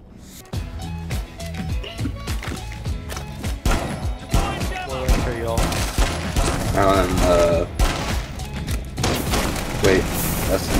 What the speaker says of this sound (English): I'm being shot in the foot